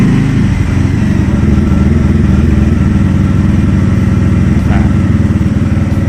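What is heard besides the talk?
TVS Ronin 225 motorcycle engine starting and idling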